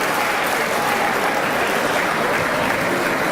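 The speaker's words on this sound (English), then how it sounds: "Please hold your applause until the last student's name is called." Graduation audience applauding at a 2019 high school ceremony, a dense steady wash of many hands clapping at full volume throughout, with no talk over it.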